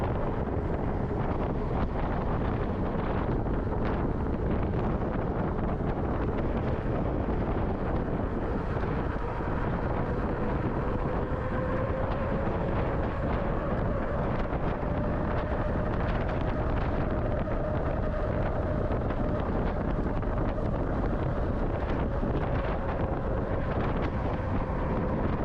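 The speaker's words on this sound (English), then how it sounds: "it's going to be windy" Strong, constant wind roaring and buffeting against the microphone while riding an e-bike downhill, loud and unbroken for the whole stretch, with a faint rising whine underneath.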